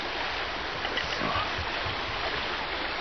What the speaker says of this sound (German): bewege ich mich da an der Glan, wird man so wunderschön plätschern